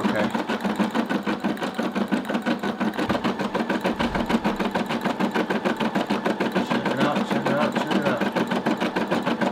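An embroidery machine stitches a long jump stitch, producing a close, loud, continuous run of rapid, evenly spaced needle strikes over a steady motor hum.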